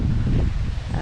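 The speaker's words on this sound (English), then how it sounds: "it's another windy day" Wind gusts buffet the microphone on a dry, windy August walk along a public footpath across the Gunby Hall estate toward Bratoft, a continuous low rumble with some rustling and no clear speech.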